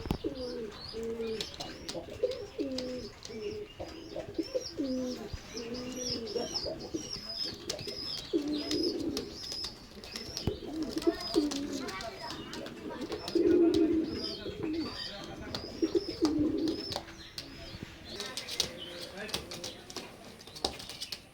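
Oman blood line teddy pigeons cooing in repeated soft, throaty phrases close by, with someone talking over much of the calling.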